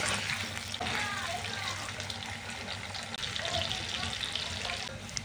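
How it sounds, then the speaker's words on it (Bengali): Potatoes frying in salt in a home kitchen pan give a steady, dense sizzle and hiss throughout, with faint clinks and a brief soft dip near the middle. "এবার আমি ভালো মতো আলুটাকে ভেজে নেব।"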